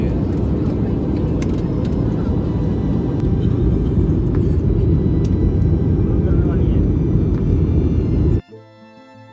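Steady, loud broadband roar of airplane cabin noise as the aircraft descends toward landing at Bagdogra, continuous for about eight seconds before cutting off abruptly into near silence.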